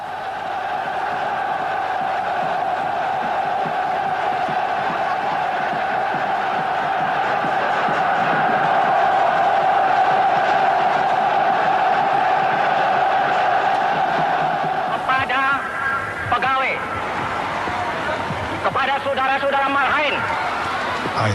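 A vast archival crowd roars and cheers for Sukarno, a dense, loud, sustained wash of voices, later broken by swelling shouts.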